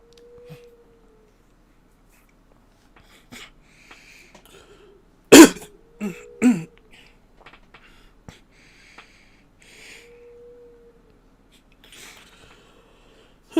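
A coughing fit from one person, mostly quiet with scattered small throat sounds and then two sharp, loud coughs in close succession near the middle, followed by faint breaths and rustles.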